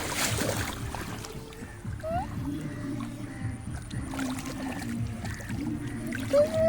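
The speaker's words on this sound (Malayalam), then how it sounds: "വെള്ളം തെറപ്പിക്കിങ്ങനെ." Water is splashed by people moving through it outdoors: soft, scattered splashes and trickles, fairly quiet and near, with faint background sounds.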